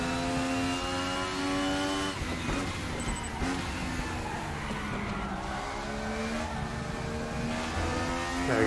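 Race car engine in the RaceRoom racing game, revving hard with rising and falling harmonic pitch as it shifts and accelerates, loud and continuous throughout, with brief tire squeal.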